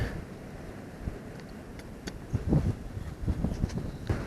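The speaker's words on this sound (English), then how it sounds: "Wind is blowing this stuff all over the place." Wind blowing outdoors on a gusty day, a steady broadband rush with a few louder gusts and brief knocks toward the end, heard close through an action camera's microphone.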